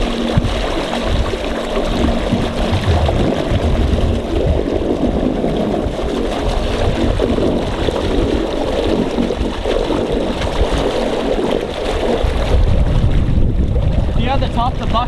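A homemade ice eater churns pond water, giving a loud, constant wash of splashing and turbulent water mixed with wind rumble on the microphone. The noise runs steadily for about fifteen seconds without clear talk.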